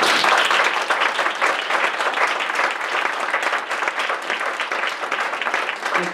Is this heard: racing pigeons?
no